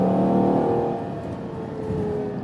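A Ferrari Purosangue SUV's V12 engine pulls hard under acceleration in a higher gear, its tonal roar loud and close, then easing slightly, over about two seconds.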